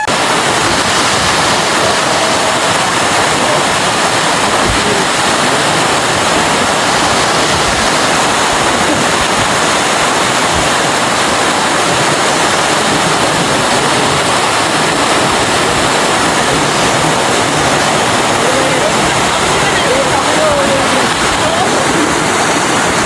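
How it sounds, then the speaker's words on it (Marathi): A Konkan waterfall roars in a dense, unbroken wash of rushing water, loud and close, holding steady throughout with no distinct voices. "धबधबा बघितला का गडी येडं होत होतं."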